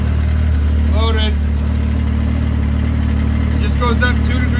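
A Yamaha Sidewinder snowmobile engine idles steadily while loaded in a trailer, warming up during coolant bleeding; a loud, constant low drone fills the whole stretch, with someone briefly talking over it.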